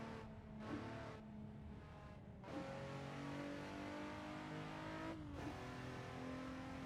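A race car in the Assetto Corsa driving game revs and accelerates through several gear shifts, its engine note loud and continuous, with a few brief drops in pitch between surges.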